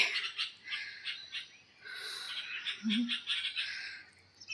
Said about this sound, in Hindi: साथ साथ में पक्षी भी चहचहाने लगे